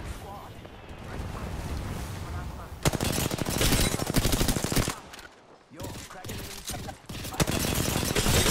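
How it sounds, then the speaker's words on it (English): Dense, loud gunfire in the battle royale shooter Apex Legends, rapid bursts roaring almost continuously with a brief lull midway before the shooting resumes, heavy and close throughout. "Opening fire on the enemy."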